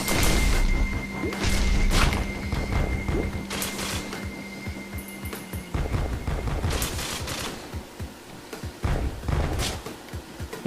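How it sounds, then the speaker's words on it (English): Rapid bursts of gunfire from the video game Risk of Rain, with clustered shots, thumps and impacts coming in uneven volleys at close, fairly loud level, with no talk. "Oh, I'm shooting the wrong direction."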